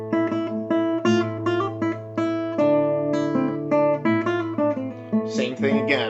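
A guitar picks out a melody of clear, separate notes over a held low bass note, played close and at moderate volume.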